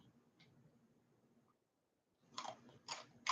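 Someone bites into chili-flavored corn chips similar to Takis, faint soft mouth sounds giving way to three loud, crisp crunches near the end.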